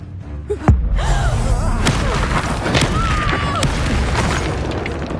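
Booming fire-spell blast from Hogwarts Legacy combat, a sharp thump followed by a dense, roaring crackle of magical effects and impacts that fills the scene loudly for several seconds.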